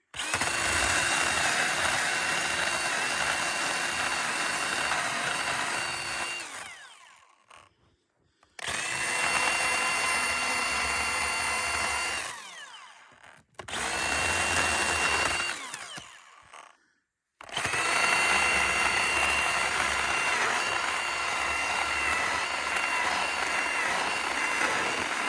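A Milwaukee M18 battery chainsaw cuts wood in four long, loud bursts of high-pitched whirring, separated by brief silences as the motor stops between cuts.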